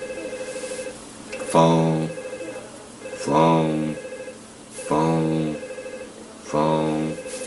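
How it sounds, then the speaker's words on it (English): Telephone ringing in The Sims Bustin' Out: four loud electronic ring bursts repeat at a steady pace over a continuous game music bed, with no talking. "Phone."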